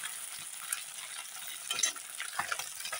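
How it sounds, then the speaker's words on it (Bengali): Small river fish such as borolI and mourola frying lightly in oil give a steady, close crackling sizzle with brief bursts of spatter. "এই মাছগুলো বেশি না ভাজলেও হয়, অল্প হালকা ভেজে নিলে হয়।"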